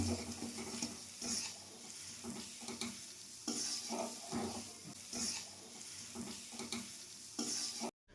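Melted jaggery and khoya kheer stirred together in a pan, with a soft sizzle and repeated rhythmic scraping strokes of the spoon, fairly quiet and close.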